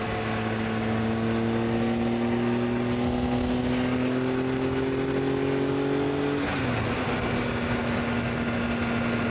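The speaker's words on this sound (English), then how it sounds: "you hear my bike revving, right?" A motorbike engine revs in low gear while riding through the Harz mountains, a loud sustained drone with rising pitch that drops after a gear change, over constant wind rush.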